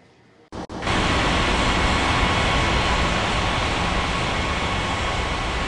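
An airliner taking off in the Unmatched Air Traffic Control video game at Ngurah Rai Bali International, its engines kicking in abruptly after a quiet start and holding a loud, steady broadband roar with no talk.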